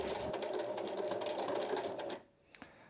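Sewing machine stitching a sweater runs steadily and close for about two seconds, with a fast mechanical whir, then stops; a couple of faint clicks follow in near silence.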